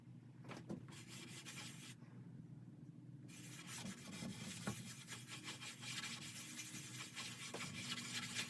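A cloth or brush rubs dark walnut stain onto wood for a custom bed set, giving soft, steady scraping and swishing strokes that are quiet and close, with a brief pause partway through.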